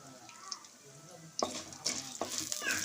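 Mustard seeds, lentils and dried chillies hit hot oil and burst into close, crackling sizzling that swells after a quiet start, with popping and stirring over a soft background.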